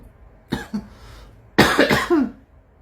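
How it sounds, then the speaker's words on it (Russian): A person coughs after drinking vodka, one short cough followed by a harsher burst of several coughs with a throaty wheeze, close and alone. "Кашель."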